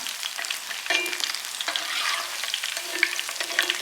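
Chicken pakora frying in hot oil, a loud, close, continuous sizzle with sharp crackling pops and splatters scattered throughout.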